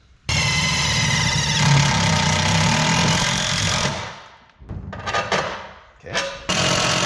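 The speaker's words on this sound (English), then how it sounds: "Let's go ahead and drill our new holes." A power drill bores new holes through the metal bed of a Toyota Tacoma truck, a loud steady whine for several seconds, then shorter stop-start bursts as the bit breaks through.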